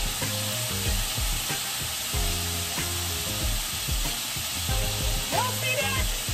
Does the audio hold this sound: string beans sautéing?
yes